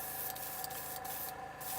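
An airbrush sprays paint onto a fishing lure through a stencil in a steady, close hiss that runs throughout, with a few brief dips in pressure and no voices.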